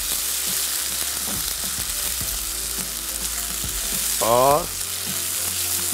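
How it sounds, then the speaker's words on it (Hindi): Thin strips of chicken hitting hot oil with browned garlic, a loud, dense and continuous sizzle close by, with someone speaking briefly over it near the end. "इसको खूब अच्छे से फ्राई कर लेंगे।"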